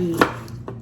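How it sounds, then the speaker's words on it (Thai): A knife chops a lime for a Thai fish dish, two crisp, close strikes about half a second apart over faint kitchen background. "หั่นบักนาวพี่น้องมาหั่นบักนาวแล้วก็จีอันใส่"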